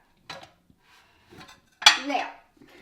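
Ceramic dishes clatter as they are lifted out of a kitchen cabinet: a couple of faint knocks, then one louder, close clink and rattle near the end, with no talking.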